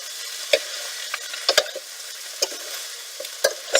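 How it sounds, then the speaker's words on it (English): Cabbage sizzles in a hot pan, with a soft continuous crackle broken by sharp clatters of stirring at irregular moments. "sizzling nicely."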